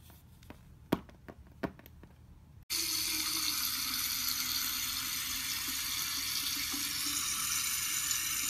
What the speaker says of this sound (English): I can turn on the water faucet.